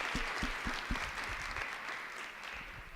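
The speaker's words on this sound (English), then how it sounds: "could you please give a round of applause to the speakers before me" Round of applause from an audience at a learner-led school dialogue on gender-based violence prevention, steady dense clapping with a few sharper nearby claps, no talking.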